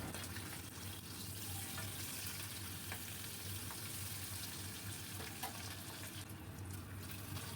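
Pabda fish frying in hot oil under a lid, a steady, fairly quiet crackle and hiss of spattering oil that runs evenly through the whole stretch, with no voices.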